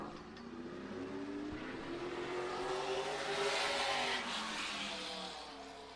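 A race car engine drones on a warm-up lap at Madera Speedway, revving and rising as the car sweeps past, fairly distant and steady before fading slightly at the end, with no voices.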